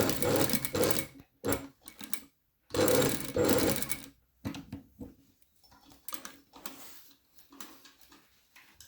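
Industrial sewing machine with a 5 mm presser foot stitching a patch-pocket flap, running in short loud bursts of a few seconds separated by pauses, with quieter mechanical clicks and handling in between.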